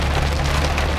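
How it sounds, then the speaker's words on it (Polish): Rain falls steadily on a 47-year-old Mercedes, a dense, loud, even patter on the car with no break. "aczkolwiek pada deszcz, tak jak teraz"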